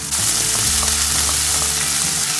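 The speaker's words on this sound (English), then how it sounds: "When cumin starts to splutter, add about 3 tablespoons of chopped onion." Cumin seeds spatter in hot oil as chopped onion drops in, setting off a loud, dense, continuous sizzle close by, with no talking.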